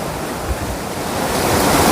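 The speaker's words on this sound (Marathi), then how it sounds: "मी आता या पावनखिंडमध्ये एक धबधबा आहे" A waterfall in the Pawankhind (Ghodkhind) mountain pass roars as a broad, steady wash of rushing water, dense and fairly loud, swelling slightly toward the end, with no voices.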